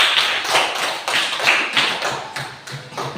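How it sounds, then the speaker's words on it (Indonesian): Students in a classroom clap for a discussion group, a close, loud burst of rhythmic pulsing applause from a small crowd, with no one talking. "tepuk tangan untuk kelompok B"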